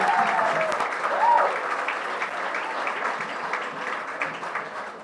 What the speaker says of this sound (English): Actually, the applause is for all of you.